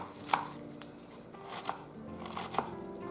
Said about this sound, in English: Onion is chopped.